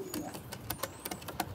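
A racing pigeon coos softly close by, low throaty murmurs under a scatter of sharp taps and clicks in a loft.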